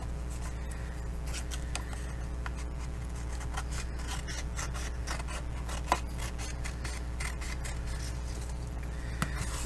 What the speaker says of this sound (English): then I'm going to go ahead and trim this off, okay? So let's get out some scissors.